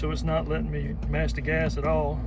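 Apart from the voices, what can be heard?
No distinct noise like a dog, phone or traffic.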